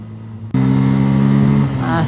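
A motorcycle accelerates on an open road near Chhatrapati Sambhajinagar. After a quiet moment the engine surges into a loud, close, steady droning hum.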